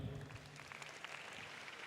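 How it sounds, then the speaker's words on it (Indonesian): A group at a Monday morning integrity session gives a short round of applause, a soft, steady patter of many hands heard from some distance with a faint tone at the start, lasting under two seconds. "tepuk tangan untuk kalian"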